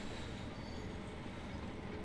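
A passenger train in Train Sim World 3 runs on the West Cornwall local line into Carbis Bay with its brake eased to step 1. Steady, loud rolling rumble and rail noise continue unbroken throughout.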